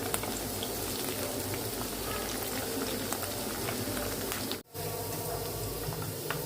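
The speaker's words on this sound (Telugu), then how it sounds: "పచ్చిమిర్చి ఉల్లిపాయ బాగా ఫ్రై అంత వరకు అయితే ఫ్రై చేసుకోవాలి" Onions and green chillies frying in a pan: a dense, steady sizzle and crackle that fills the whole span, close and even, with a single brief dip near the end.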